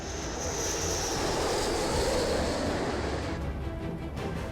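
A B-1 bomber flies over in a steady broadband jet roar. The roar holds at one level and fades slightly near the end.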